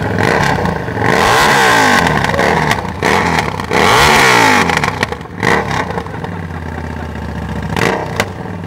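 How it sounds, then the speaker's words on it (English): A Harley Davidson 750 Super Rod motorbike with a loud exhaust revs hard outdoors at a truck show in Ireland, with repeated rising and falling throttle blips, each roaring up and dropping back, close and loud throughout. "I think this motorbike might get the competition for the loudest exhaust. It's a Harley Davidson 750 Super Rod."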